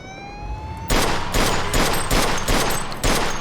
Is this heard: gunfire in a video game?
yes